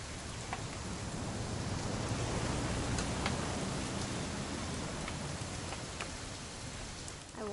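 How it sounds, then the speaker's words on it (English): Steady rain falls in the video game What Remains of Edith Finch, a dense, even hiss of drops with a few louder patters, continuous and close for the whole stretch. "It's gonna rain the whole weekend,"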